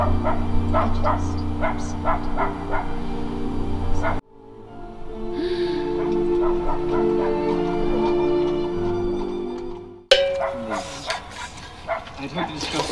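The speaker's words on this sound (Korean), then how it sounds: "멍멍이 언제까지 짖을까?" A dog barks repeatedly at a solo camping site, sharp yips and bow-wows in bursts, fairly close, mixed with voices and other background audio that shifts abruptly between sections.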